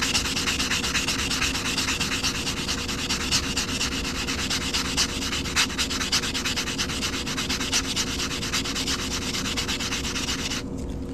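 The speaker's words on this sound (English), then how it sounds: "what I'm working on here is smoothing out this cut edge on a nail file block" A cut coin-ring edge rubbed on a nail file block, giving steady, rapid back-and-forth sanding strokes, close and continuous, ending abruptly.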